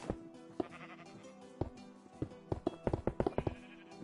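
Sheep bleat in the Minecraft video game, short nasal bleats mixed with sharp clicking taps, sparse at first and then in a quick cluster, moderately faint with no speech.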